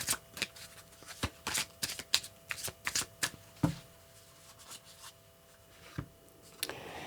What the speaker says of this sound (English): I'm going to choose from this deck unless it falls out easily because the cards tend to stick together.